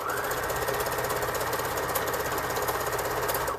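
A sewing machine runs steadily while stitching a fabric tube seam, a fast even mechanical rattle held close and loud without pause.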